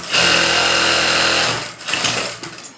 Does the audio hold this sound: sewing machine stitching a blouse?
yes